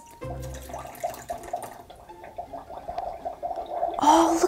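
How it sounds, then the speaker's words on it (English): A Magic Mixies toy cauldron bubbling, with close gurgling, fizzing pops and a hiss that build toward a louder surge near the end, heard without talk. "Oh, look at it bubbling and boiling."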